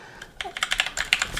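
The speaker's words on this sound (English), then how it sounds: "It is a well-built keyboard." Fingers type quickly on a SteelSeries Apex 7 TKL mechanical keyboard with brown switches, producing a rapid run of close, crisp key clicks after a short quiet start.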